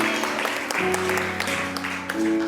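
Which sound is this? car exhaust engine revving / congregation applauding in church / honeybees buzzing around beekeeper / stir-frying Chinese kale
congregation applauding in church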